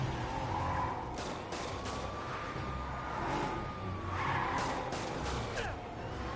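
Game police car driving in Spider-Man, a steady mid-pitched engine drone with whooshing passes and brief skid-like swells, loud and continuous throughout.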